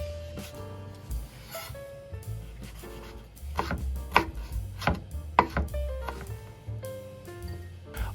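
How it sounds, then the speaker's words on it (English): A knife cuts thick pickled takuan radish into strips on a board, making a string of crisp chopping knocks that grow sharper and louder near the middle, with no voices. "First, cut the takuan into stripes."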